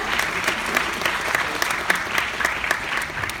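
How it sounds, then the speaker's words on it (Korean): An audience claps for a speaker at a Korea Electric Power Corporation recruitment briefing held at Dong-A University, dense steady applause from a crowd filling the whole stretch. "박수 부탁드립니다."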